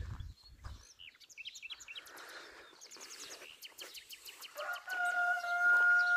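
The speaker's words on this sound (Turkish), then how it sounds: "Evet, horozlar, tavuklar ötüyor." Birds chirp and call in a village garden in Turkey, with chickens clucking and a rooster's drawn-out crow rising toward the end.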